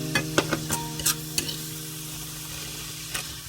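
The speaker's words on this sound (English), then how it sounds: "stir constantly" Mustard and turnip greens stir-fry in a hot pan, with a soft steady sizzle broken by several sharp scraping and clanking strokes of the spatula early on, then quieter frying.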